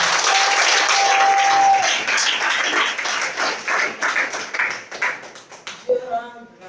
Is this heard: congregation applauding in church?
yes